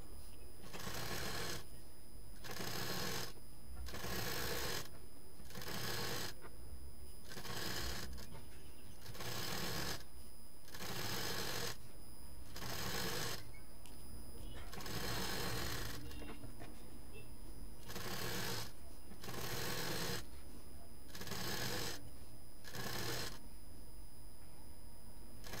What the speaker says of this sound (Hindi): इस स्क्वायर पीस को पहले हम चारों तरफ से सिंगल फोल्ड इस तरह से करके सिल देंगे।